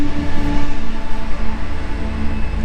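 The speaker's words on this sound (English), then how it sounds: "I'll let the train pass." A train passes close by with a loud, steady rumble and droning tonal hum, its rolling noise continuous and unbroken throughout with no talk.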